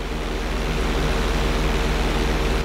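An airplane in the GTA 5 video game drones steadily with a throbbing propeller-like pulse, a loud constant engine roar with no talk.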